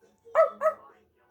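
Two quick, close dog barks ring out one after the other, small and yappy in tone, with a short gap between them and quiet before and after.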